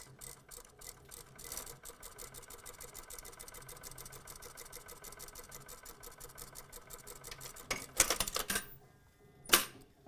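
A sewing machine stitches a patch pocket onto a pair of pants, running as a steady, even mechanical hum of rapid needle strokes close by, then breaking into a few louder clacks near the end.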